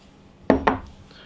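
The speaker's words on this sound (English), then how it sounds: "Overturn that bowl." A bowl is flipped over to release freshly microwaved keto bread, giving two quick, close knocks of the bowl against a hard surface, followed by quiet.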